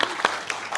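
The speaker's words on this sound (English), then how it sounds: "a round of applause" Brief applause from a conference audience after a talk on agile teams and organisations, a short patter of clapping at moderate volume.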